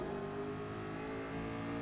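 Queue of GT race cars in Gran Turismo Sport, FIA GTC racing, a steady, fairly faint engine drone held at constant revs for a couple of seconds.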